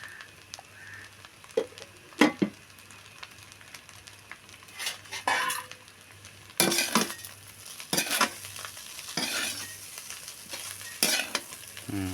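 Prawn fried rice with spring onions being tossed and stirred in a hot pan: a soft steady sizzle under repeated sharp scrapes and clinks of a metal spoon against the pan, close up with no talking.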